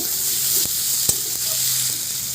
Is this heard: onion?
yes